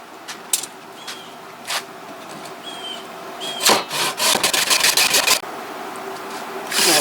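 A Silky saw blade cuts through clamped wood to make a handle: scattered scrapes at first, then a run of rapid, rhythmic rasping strokes close by, loud and steady, with no talking.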